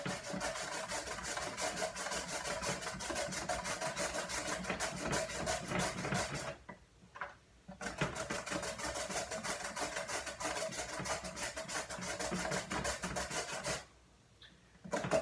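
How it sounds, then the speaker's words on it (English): A handheld veggie strip maker rasps rhythmically as a sweet potato is pushed back and forth across it, a fast, steady scraping that pauses twice briefly before resuming. "all you do is just keep going back and forth, and then with each pass over, you get these veggie strips inside"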